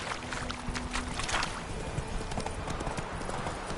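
Roach's hooves gallop in The Witcher 3 video game, a quick continuous clip-clop rhythm running the whole way through under a busy, watery game ambience with little talk.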